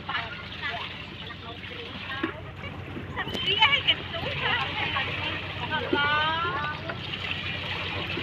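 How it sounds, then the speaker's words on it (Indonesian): Galam-wood cargo boat on a river, its engine and water wash rumbling steadily throughout with splashing, while people talk over it. "kapal pengangkut kayu galam"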